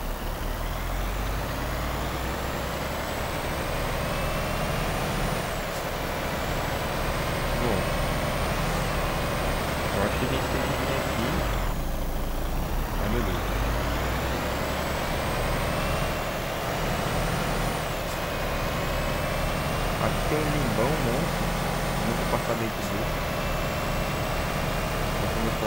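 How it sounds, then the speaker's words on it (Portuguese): Heavy truck engine in Euro Truck Simulator 2, a steady low drone running continuously with rising and falling gear pitch sweeps, driving through a snowy area, no voices. "Esse caminhão é bem fraco."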